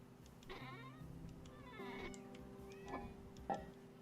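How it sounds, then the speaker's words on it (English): A kitten in a Vintage Story game meows several times in a row, short rising and falling cries spaced about a second apart, fairly close and clear with no talking over them. "Noisy kitten."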